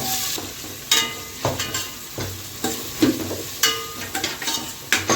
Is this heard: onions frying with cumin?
yes